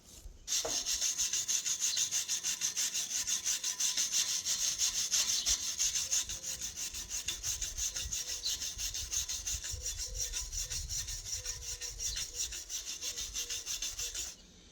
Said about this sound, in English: we're going to start off with brushing it down a little bit before I put my gear on, just to get the loose stuff off.